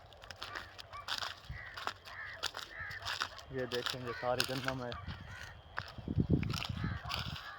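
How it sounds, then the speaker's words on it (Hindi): Birds call over a wheat field at harvest time, scattered cawing and chirping calls at moderate distance under someone talking, with a louder burst of calls midway. "सारे परिंदे देखो चहचहा रहे हैं"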